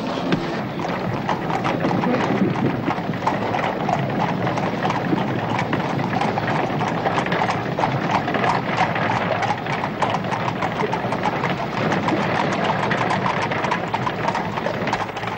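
Horse hooves of a horse-drawn carriage clip-clop steadily on a hard road, a continuous rhythmic clatter mixed with wheel and road rumble throughout, with no voices.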